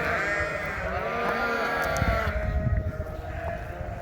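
A barn full of sheep on a working farm bleats almost constantly, with many overlapping calls of different pitches, some close and some farther off, over a shuffling, rustling background and no talk.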